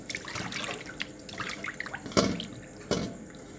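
Fermented fish rinsed under running water in a kitchen sink, a steady trickling stream with a few louder splashes as the fish is handled, close and alone.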